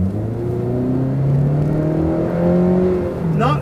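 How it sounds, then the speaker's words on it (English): The four-cylinder engine of a 2012 Honda CR-V drones steadily while accelerating, its pitch climbing gradually and then dropping at a gear change near the end, heard from inside the cabin. "in a typical 4-cylinder fashion, you do hear the engine."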